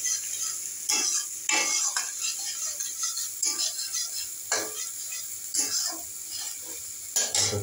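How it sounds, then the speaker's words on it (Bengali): Ginger garlic paste frying in a pan while being stirred, with repeated scraping strokes of a utensil over a steady sizzle, the scrapes coming in irregular bursts. "এবার আদা রসুন পেস্ট করা আছে দেখতে পাচ্ছেন, দিয়ে দিই। এটা 1-2 মিনিট ভাজতে হবে।"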